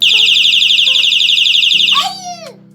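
A loud, piercing electronic bicycle horn wails in a steady warbling tone, then switches abruptly to a lower buzzing tone with a brief descending sweep.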